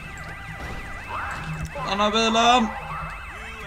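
Police car sirens in GTA: a steady wailing siren sweeps up and down throughout, with someone shouting briefly over it midway.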